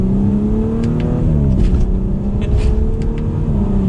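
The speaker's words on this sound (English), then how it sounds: "Let's listen to that exhaust." A 2021 Audi S4 Premium in dynamic mode pulls hard in second gear, its exhaust note a loud, steady roar that climbs in pitch as the revs rise, with a brief dip partway through like a shift or lift.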